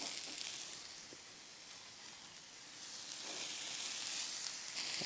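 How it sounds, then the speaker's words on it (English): Onions sizzle on a grill beside Wagyu beef burgers: a steady, fairly quiet hiss with a few faint crackles, swelling a little louder toward the end, with no voices. "Let's grill up our onions."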